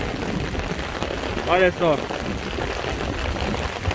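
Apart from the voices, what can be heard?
heavy rain in Condado do Norte, Minas Gerais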